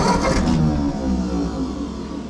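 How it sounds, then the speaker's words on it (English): A farm tractor's engine cranks and catches, then settles into a loud, steady, low mid-pitched running rumble close by. "So what we got to do is start the tractor."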